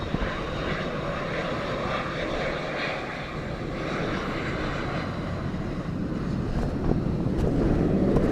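An airplane landing at Dublin Airport during Storm Floris, a steady roar of jet engines mixed with gusting wind noise on the microphone, growing slightly louder toward the end.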